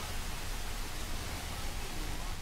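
Steady broadband radio static hisses from a stalled car's radio in the horror game Fears to Fathom, an even, unbroken noise filling the whole stretch at constant loudness.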